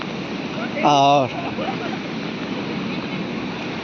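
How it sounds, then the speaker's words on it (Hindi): High sea waves surge onto the shore at Surat, a steady broadband rush of surf and wind, with a brief spoken word heard over it near the start. "देखिए समुद्र आ गया, मतलब लहरें बहुत ऊंची तक चढ़ चुकी हैं, पानी बहुत तेज़ हो चुका है"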